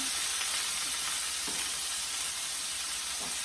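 Steady, quiet sizzle of fried rice frying in a pan, a constant crackling hiss with a few soft clicks, no voices.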